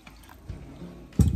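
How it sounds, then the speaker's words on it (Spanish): Water is poured into blended green prickly pear fruit ready for straining, a brief close splash and gurgle at the end of a quiet kitchen moment. "le voy a poner un poco de agua aquí"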